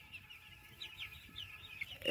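Soft, close clucking from several poultry chickens on a farm, short warbling calls repeating irregularly over a quiet background.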